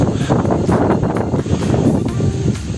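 A cool wind gusts through the trees around an old village on a cloudy, stormy day, a loud rushing roar with buffeting bursts on the microphone.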